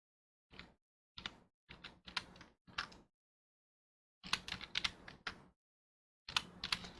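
Numbers typed on a computer keyboard, each group followed by Enter: close, crisp clusters of key clicks coming in short bursts separated by silent pauses, with no voices.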